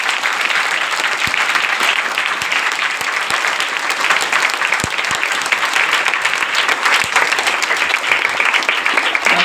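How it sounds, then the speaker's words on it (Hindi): Congregation in a church service applauding soldiers during an Independence Day sermon: steady, loud, dense clapping throughout, with a few sharp individual claps standing out. "आइए हम उस जवानों के लिए एक बार ताली बजाएं"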